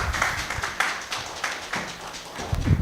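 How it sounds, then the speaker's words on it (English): Applause from an audience at a public presentation of an election observation report, a steady patter of many hands clapping that holds for a few seconds with no talk over it. "A round of applause for him, please."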